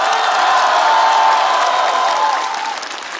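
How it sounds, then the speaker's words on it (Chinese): A studio audience at a Chinese entertainment roast show applauds the guests: loud, sustained clapping from a large crowd with a few whoops, close and full, easing off near the end. "我们把掌声送给年轻一代，同时再次欢迎我们所有嘉宾的到场"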